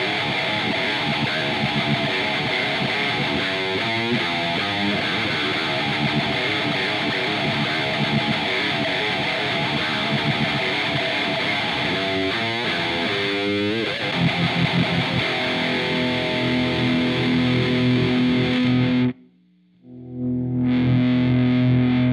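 A heavily distorted, high-gain electric guitar through a rebuilt tribute rig with stacked EQ and a noise gate chugs and riffs loudly and steadily, with palm-muted bursts, then cuts to near silence before a final sustained chord.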